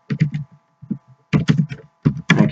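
Quick clusters of keystrokes on a computer keyboard while code for a Pong game is typed, close and crisp, with short pauses between bursts.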